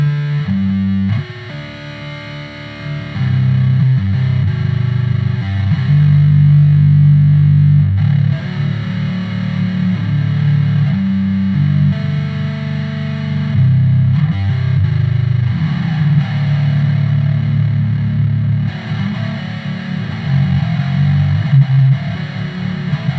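A bass guitar through a pedal cranked to its metal distortion setting plays a continuous loud riff, thick and gritty, with sustained low notes and chord changes throughout.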